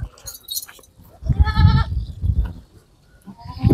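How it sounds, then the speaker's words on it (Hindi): Beetal goats bleat on a goat farm in Arifwala, several loud wavering calls rising over low farmyard rumble and handling noise, with a pause and a further call at the end. "बकरियाँ लो जी, काली बकरी आई माशाल्लाह डब्बी"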